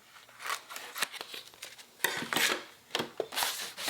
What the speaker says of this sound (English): we're gonna cut your design out